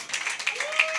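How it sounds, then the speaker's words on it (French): Comedy show audience applauding a comedian, a brief dense patter of clapping from a crowd, fairly soft and even, with a faint voice briefly rising beneath it. "Applaudissez"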